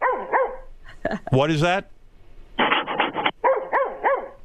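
A dog barks in a radio studio, sharp close barks and a yelping whine mixed with loud talk from several people on air.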